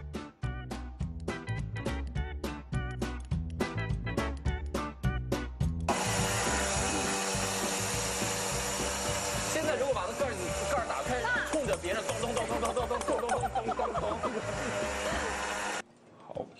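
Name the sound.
high-speed blender grinding toasted quinoa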